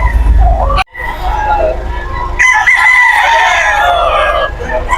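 Red Kelso gamefowl roosters at a busy pre-dawn poultry market, several crowing loudly and close over a steady crowd murmur, with a brief dip in noise near the start.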